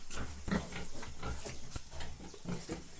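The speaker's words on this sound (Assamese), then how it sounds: "ইয়াত আছে গাহৰি এজনী" Low grunting and snorting of a pig on a pig farm in Assam, repeated in short bursts over a constant background rumble, fairly close.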